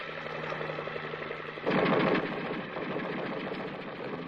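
Machine gun fire in a Vietnam war film, a dense sustained rattle of rapid bursts over a rumbling battle background, with one louder, heavier burst partway through.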